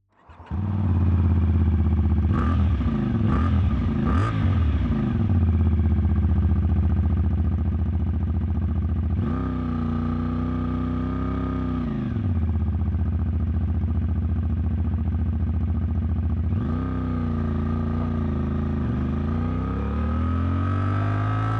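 Moto Morini Vettore 450 parallel-twin motorcycle engine heard while riding, loud and steady throughout, revving up through several gear changes early on, then settling into cruising drone with a few throttle rises and dips; no talking.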